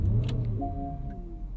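Engine of a 2014 Porsche Cayenne GTS firing up, a low rumbling catch followed by a settling idle hum with a faint whine, close and moderately loud.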